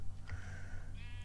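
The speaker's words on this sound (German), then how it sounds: "Oh, hier sind Schafe." A single sheep in the Minecraft video game gives one short, quiet, wavering bleat with a slight rise in pitch at the end.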